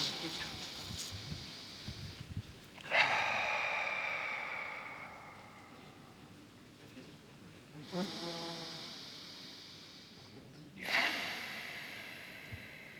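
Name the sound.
breathing in and out through the nose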